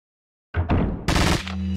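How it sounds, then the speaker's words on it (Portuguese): Sudden loud burst of rapid automatic gunfire in the video game Resident Evil 4 Separate Ways, dense and continuous, starting after a moment of silence and ending in a sustained ringing tone. "Leon tá metralhando os inimigos."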